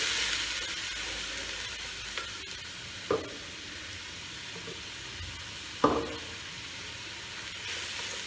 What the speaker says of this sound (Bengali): এতে আমরা জলের বদলে এই টক দইয়ের মিশ্রণটা দেবো একটু একটু করে।